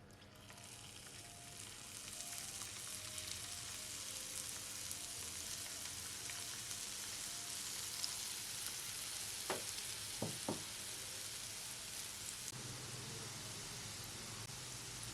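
Besan batter dropped through a ladle into hot oil for Bengali boondi sizzles and crackles steadily throughout, a dense, even frying hiss with a few brief clinks near the end.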